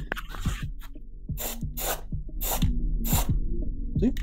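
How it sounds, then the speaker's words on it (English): Rust-Oleum spray paint hisses from a can in several short bursts onto piping hot metal, with clicks and knocks between the sprays. "blast some spray paint on this piping hot metal"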